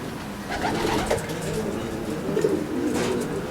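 Prize-winning racing pigeons in a loft coo in overlapping low throaty murmurs, with a few brighter flutters and chirps mixed in, near and fairly loud.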